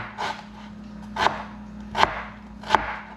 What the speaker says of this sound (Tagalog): Malilitin natin itong mga luya.